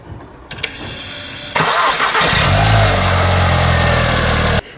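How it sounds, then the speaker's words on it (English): A VW Polo 9N3 GTI with a 1.8 20vt engine cranks briefly after an oil pickup pipe change, then fires and settles into a steady, loud idle close by before cutting off. "So now I can give the car a crank by hand, and then I'm going to turn it on."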